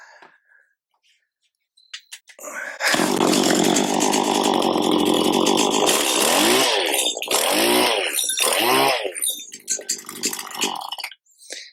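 A Stihl HL75 flex-head hedge trimmer with loose bolts and a stiff head starts up after a quiet moment and runs loud and steady for about nine seconds, its pitch wavering as the head is angled, then cuts off.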